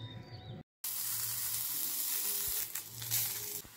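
Onion and garlic fry in oil, a bright steady hiss of sizzling after a brief cut, close and moderately quiet, with faint stirring knocks.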